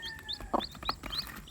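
A Rhode Island Red mix hen with chicks: soft clucks and high peeping chirps in quick short bursts, faint and close.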